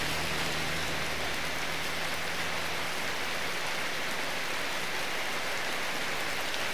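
Heavy rain pours steadily, a dense, even hiss of water drumming on surfaces with a low rumble underneath, continuous and close throughout.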